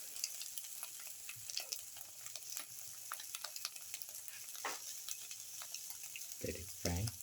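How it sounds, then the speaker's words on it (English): A black pepper cashew omelette frying in a pan gives a quiet, continuous sizzle with scattered light crackles and a few soft utensil knocks, then a low thump at the end. "Let it fry"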